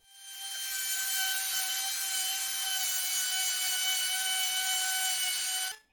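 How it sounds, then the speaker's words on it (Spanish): A router cutting 3 or 6 mm plywood, a loud, steady, high-pitched whine that starts quickly, holds evenly for several seconds and then stops abruptly, close by with no talking. "por el lado en que tengo la marca de mi router es por donde empezaré a recortar"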